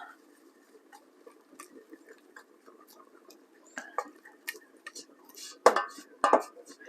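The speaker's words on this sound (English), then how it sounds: "Stir that in. No lumps." Macaroni and cheese sauce being stirred in a pot, with faint scattered clinks and taps of a utensil against the metal that grow a little louder toward the end, quiet kitchen room tone behind.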